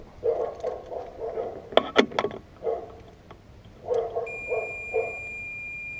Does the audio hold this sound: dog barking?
yes